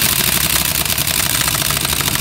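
An air-powered impact tool run from a portable air tank hammers at lug nuts to bust them loose, a dense continuous rattling buzz, loud and close, with no pauses.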